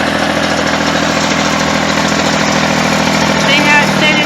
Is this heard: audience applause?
no